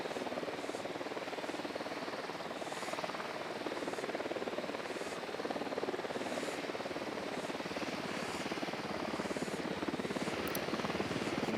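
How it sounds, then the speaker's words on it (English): A helicopter in the video game Ghost Recon Wildlands thrums steadily with rhythmic rotor chop over a constant engine whine, holding at a fairly distant, even level for the whole stretch. "Who need that chopper?"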